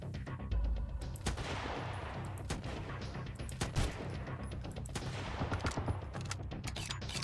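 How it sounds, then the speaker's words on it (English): Rapid bursts of AK rifle fire in the survival game Sunkenland crackle continuously, with dense repeated volleys and scattered louder single shots over a steady background roar. "He's got an AK or something."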